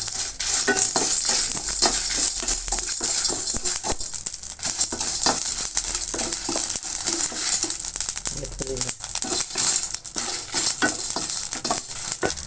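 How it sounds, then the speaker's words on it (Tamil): Chillies, pepper, coriander and cumin are dry roasted together in a pan, giving a constant loud crackling sizzle with repeated scraping and rattling stirring strokes close by. "மிளகாய் மிளகு மல்லி சீரகம் எல்லாத்தையும் ஒன்றா போட்டு வறுத்துடலாம்"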